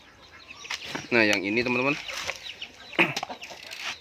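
Hens clucking inside a layer breeding coop, with one drawn-out rising cackle standing out close by, mixed with general farmyard noise while someone talks over it.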